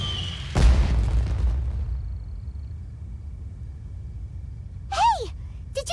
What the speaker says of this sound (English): Did you hear that explosion? Maybe it was fireworks.